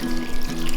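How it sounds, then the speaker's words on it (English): Cooled brine poured from close by over goose breast in a lidded plastic tub, making a brief, steady splashing pour. "I'm going to take our nice cooled brine and just pour that right over the meat."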